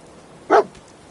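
Dogmeat the dog from a video game lets out a single short, clear bark, close and loud, against a quiet background.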